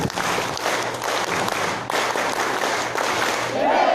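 An audience applauds at a peace ambassador event, dense continuous clapping from many hands filling the room, loud and sustained over four seconds with a faint voice near the end.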